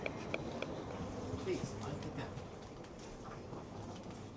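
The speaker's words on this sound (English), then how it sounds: "We are now on the train, very clearly." Inside a Eurostar train carriage at the station, a quiet steady hum and rumble of the carriage fills the background, with faint voices murmuring nearby.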